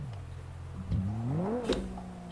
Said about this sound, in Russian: Турбовый мотор.